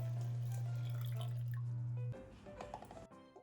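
Cold water poured into a pot of boiling water, a steady close pour running for about two seconds, followed by softer bubbling and small clinks in a kitchen.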